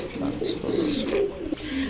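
Black beauty pigeons with chicks coo in a breeding cage, low repeated rolling coos close by, with a voice speaking underneath.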